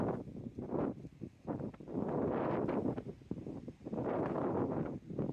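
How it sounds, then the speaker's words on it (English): Wind buffets a microphone outdoors in an orchard, producing low, rumbling gusts that swell and fade in uneven waves with no talking. "that's the wind"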